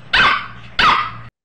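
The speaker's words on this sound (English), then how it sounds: "I'm sorry if you can hear the dogs barking." Dogs outside let out two loud, sharp barks spaced about half a second apart, near and clear, with quiet in between and no talk.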